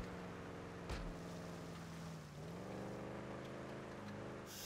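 A personalised, fast car is driven in GTA V, its steady engine drone carrying a shifting pitch that dips briefly midway, with a sharp knock near the start and constant road and wind noise, no talking.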